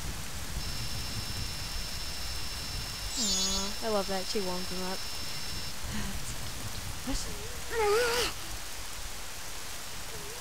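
Soft, steady rain hiss in a cutscene from the video game The Legend of Zelda: Majora's Mask, a constant wash of falling drops under game tones and chimes, with people talking briefly over it.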